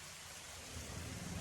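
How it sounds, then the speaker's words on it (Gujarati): Heavy rain with thunder pours down in Jamnagar, a faint, steady broadband hiss with a low rumble that swells slightly toward the end of the brief moment. "અહીં આવે છે ને વરસાદ."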